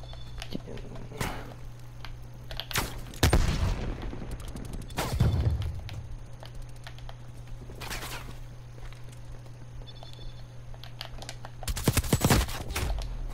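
Gunfire in a Domination match of a shooting video game, several sharp shot bursts scattered through the clip alongside footstep-like thuds, moderately loud over a steady background hum, with no talk.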